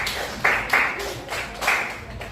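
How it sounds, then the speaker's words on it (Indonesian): Classroom applause during a micro teaching session, a small group clapping in a few sharp bursts that fade and swell, close and moderately loud. "Kita kasih tepuk tangan untuk semuanya."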